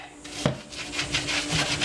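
A brush scrubs a guinea pig cage dish washed with hand soap, giving short rasping strokes in an uneven rhythm with a faint knock early on, quiet and close.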